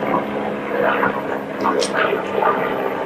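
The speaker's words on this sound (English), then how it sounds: "Sorry about the airplane. I think that's a helicopter." A low, droning helicopter engine hums overhead through the whole clip, fairly loud, with a person talking over it.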